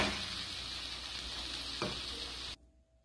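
Scallions and lobster sizzle steadily in a hot stir-fry pan with a brief scrape of stirring partway through, the frying noise loud and close before cutting off abruptly near the end.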